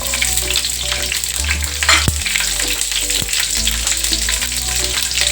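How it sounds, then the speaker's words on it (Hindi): Green chillies hit hot oil in a pan and crackle with a loud, continuous spitting sizzle, steady throughout, with one or two brief utensil clicks close by. "अब इसमें डाल रहे हैं हम हरी मिर्च।"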